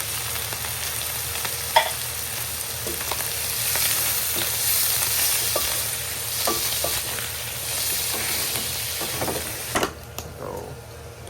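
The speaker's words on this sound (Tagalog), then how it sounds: "And ilalagay na yung mushroom." Mushrooms fry in an oiled pan for a Filipino fried adobo, a steady close sizzle with repeated stirring scrapes and utensil knocks spread through it, then a sudden quieter stretch near the end.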